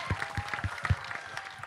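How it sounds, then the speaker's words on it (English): Audience clapping for Ajay Devgn at a trailer-launch press conference, a modest patter of hands heard fairly quietly, with no voices over it. "So big round of applause for Ajay, please."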